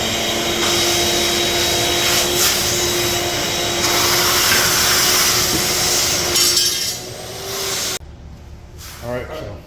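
A vacuum drones loudly and steadily while sucking up sawdust from circular saw cuts on a butcher block countertop, with light clinks as it works, then shuts off and a voice speaks briefly at the end.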